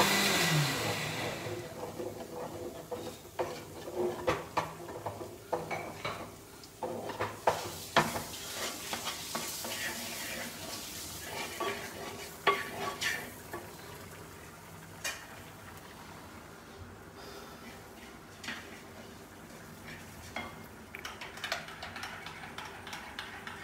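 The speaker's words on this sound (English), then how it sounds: "You can mash the pumpkin with a wooden spoon." Cooked pumpkin mashed and stirred with a wooden spoon in a pan, giving a steady run of soft scraping, squelching and tapping strokes with faint sizzling beneath, fairly close and with no talking.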